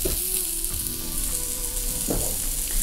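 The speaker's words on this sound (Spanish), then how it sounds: "Me encanta el brócoli salteado." Broccoli sautés in olive oil in a pan, a close, constant sizzle with a few scraping stir sounds partway through, heard alone without any talking.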